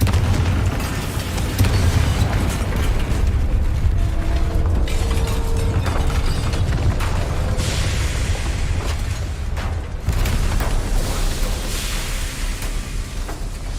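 A Confringo blasting spell in Hogwarts Legacy sets off loud, rumbling booms and bursts amid a continuous roar of game action and mechanical clatter, with no speech.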